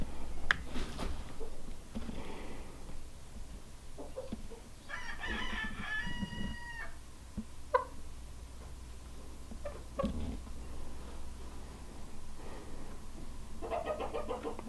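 Hens in a backyard flock cluck and squawk around the coop, with a rooster-like crowing call in the middle, all fairly faint over a steady low background hum, with no talking.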